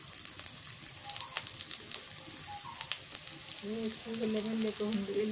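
Chopped onions fry in a generous pour of mustard oil, a soft continuous sizzle with light stirring taps, joined near the end by a brief tonal voice-like sound.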